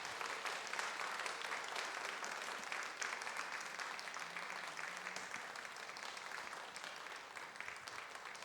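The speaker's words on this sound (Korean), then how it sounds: "강사님도 나오실 때 우리 박수로 환영해 주셨으면 좋겠습니다." Congregation applause at a church Sunday school dedication service as the guest speaker comes forward, steady dense clapping from a full room, moderately distant and continuous throughout.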